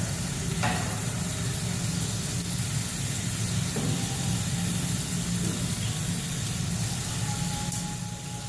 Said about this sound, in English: Now after it goes ahead and sears on the other side for about a minute, 30 seconds